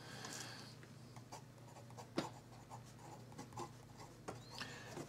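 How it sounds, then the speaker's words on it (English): A Fine Writing International Golden Armour pen nib moves across paper close by, a soft, continuous scratchy glide with small ticks and strokes that carries on throughout and stays faint. "I mean, the nib is smooth, a little bit of feedback there, but I like it."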